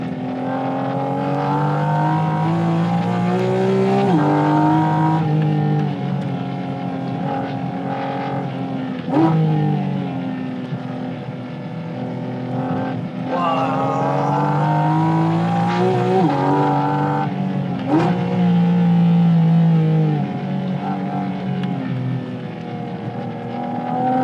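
Porsche Cayman GT4 RS flat-six engine driven hard on a race track: a loud, continuous high-revving wail that climbs through the gears, with sharp dips and snaps at each shift and rising revs again, heard close from inside the car with no talking.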